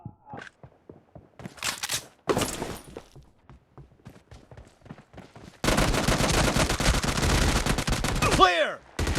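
UMP45 submachine gun fire in a video game, first scattered single shots and short bursts, then a long loud sustained volley, close and dominant, with brief voices between.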